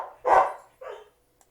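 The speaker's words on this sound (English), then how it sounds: "see who's at my door because my dog's pretty excited" A dog barks excitedly at someone arriving at the door, giving two loud, close barks in quick succession, the first longer and stronger, followed by near silence.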